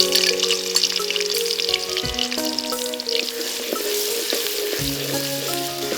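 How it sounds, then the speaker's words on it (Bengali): Onions frying brown in oil with a little ghee for a traditional Chittagong dish, a dense continuous sizzle close up, with faint tonal hums running beneath and no speech. "হ্যাঁ, পেঁয়াজটা বাদামি করে ভাজতে হবে, অনেকটা পেঁয়াজ বেরেস্তার মতোই।"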